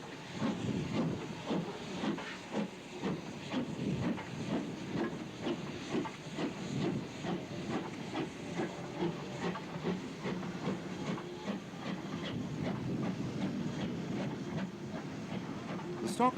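A Jones Goods steam locomotive hisses and chuffs steadily through repeated false starts, a continuous rough roar of steam with faint rhythmic beats and occasional rail clatter, moderately loud and sustained throughout.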